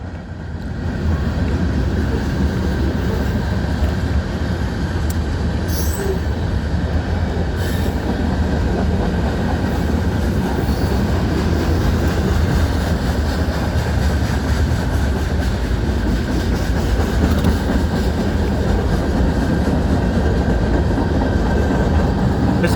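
A long eastbound freight train rolls steadily past in New Castle, Indiana, with locomotives in the middle or at the end. Loud, continuous rumble and wheel noise from close by last throughout, with faint squeals and no talking.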